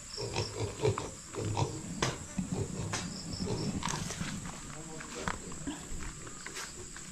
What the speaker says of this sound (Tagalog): Baboy po ni Kambal at saka ni Nanay.